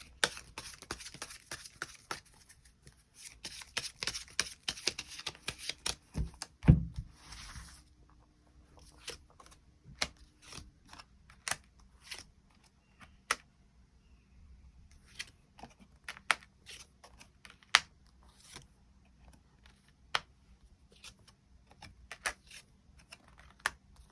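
Tarot cards are shuffled and drawn in a run of soft, close clicks, flicks and taps, dense at first and then more scattered, with no talking.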